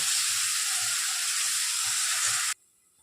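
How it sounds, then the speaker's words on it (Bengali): Potatoes frying with turmeric in a pan, a loud, steady hiss of hot oil with faint low stirring bumps, cutting off abruptly to near silence at the end; no one talks. "আর একটু হলুদ দিয়ে দেবো। আলুটা এইভাবে ভেজে নেব।"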